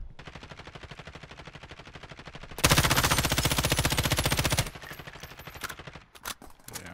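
Rapid automatic rifle fire in a shooter game, a fast steady stream of shots that swells into a loud, dense burst for about two seconds, then thins into scattered, quieter shots and trails off.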